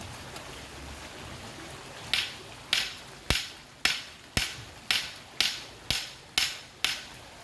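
A hammer strikes repeatedly in a steady rhythm, about ten sharp loud blows close by, while someone secures things ahead of a super typhoon; quiet background before the hits start.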